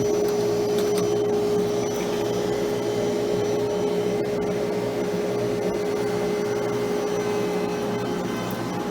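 A CNC router machine running with a new dust collector attached, a loud, continuous machine drone with a steady whine, unbroken for the whole stretch and without any talking.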